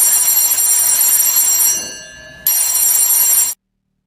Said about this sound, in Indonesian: Ya, itu bel listrik.